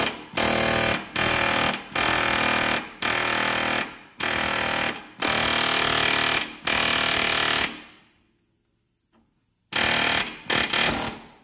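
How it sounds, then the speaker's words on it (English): Air hammer with a blunt hammer head pounding a suspension part on a 1970 Chevelle during a coilover conversion; loud rapid hammering in repeated bursts of about a second each, a brief pause, then more bursts. "You can also put a hammer head on the impact and or on the air hammer, just a blunt hammer head, and just do the same thing, hit it right there."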